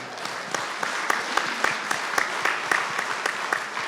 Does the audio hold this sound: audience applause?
yes